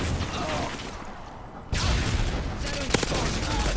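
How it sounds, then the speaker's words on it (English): Gunfire from a recoil-heavy gun rattles in the Modern Warfare 2 video game, loud and continuous, with one sharp burst near the end. Game noise fills the background. "I shot at him, dude. Like, my gun has all this recoil."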